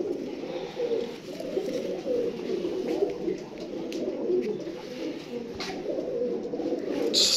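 Teddy pigeons coo in a continuous, overlapping murmur of low throaty calls, close by and steady, with faint background rustle and no talking.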